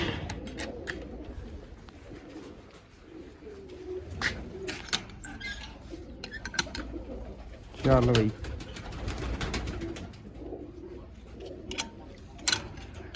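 Pigeons coo softly in the background amid light outdoor noise and clicks, with one louder nearby coo and someone briefly speaking.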